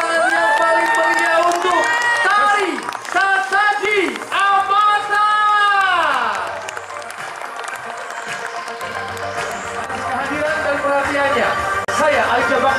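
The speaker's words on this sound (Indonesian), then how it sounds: "boleh kita sambut dengan tepuk tangan yang paling meriah" An evening festival audience at the 2022 Yogyakarta Cultural Festival opening on Malioboro bursts into lively applause and cheering, with loud shouts and voices over the clapping before it settles into murmuring.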